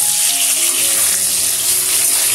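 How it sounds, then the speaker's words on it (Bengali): Potatoes fry in hot oil, giving a steady, dense sizzle that holds evenly at close range for the whole stretch with no talking. "আর এইদিকে আলু ভাজা চলছে"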